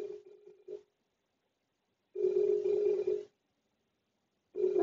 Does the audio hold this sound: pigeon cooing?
no